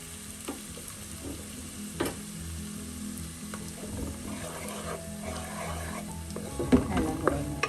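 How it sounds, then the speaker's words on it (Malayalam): Turmeric powder frying in hot oil with onions for a white tuna pepper curry, a continuous close sizzle with intermittent scraping and clinking as the pan is stirred, growing busier toward the end, with no speech. "ഇപ്പോൾ നമുക്ക് 1/2 ടീസ്പൂൺ മഞ്ഞൾപ്പൊടി ചേർക്കാം. അത് ഈ ഓയിലൊന്ന് മൂപ്പിക്കാം."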